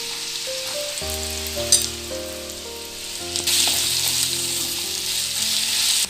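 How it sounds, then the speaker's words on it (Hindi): Chopped ginger, garlic and green chilli sizzle in hot oil, a bright crackling fry that swells louder partway through, with soft background music. "अभी हम तीनों को साथ में डाल के फ्राई करके निकालने वाले हैं"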